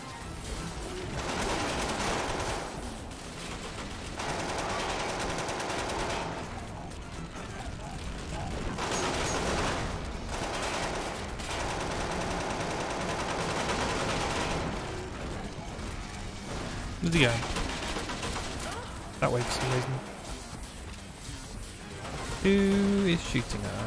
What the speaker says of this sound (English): Shooting us.